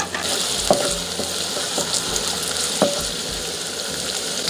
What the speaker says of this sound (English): I'm going to start by frying my onion